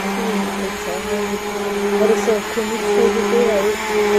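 A kitchen blender whirs steadily through yogurt for Gujarati kadhi, a continuous close motor drone with a slightly wavering pitch and no breaks.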